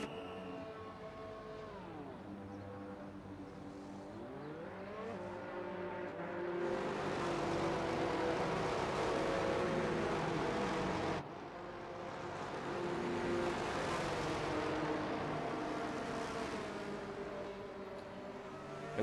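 Race cars in the pit lane of a racing video game from a Japan round of an esports series: loud sustained engine drones with pitch sweeps up and down, a brief drop midway, then continued roaring.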